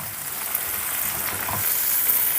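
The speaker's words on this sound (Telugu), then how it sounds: "ఇప్పుడు స్టవ్ని సిమ్లో పెట్టుకొని ఈ టమాటా ముక్కలు మెత్తబడేంత వరకు మగ్గించుకుందాం" Tomato pieces cooking in a pan over low heat, giving a steady close sizzle with light stirring sounds that grows slightly louder toward the end.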